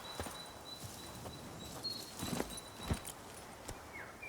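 A horse's hooves clip-clop at a slow walk in The Witcher 3, a few soft, scattered steps over quiet ambient background.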